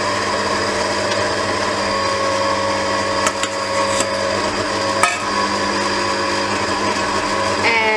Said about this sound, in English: we're now going to turn the mixer back on again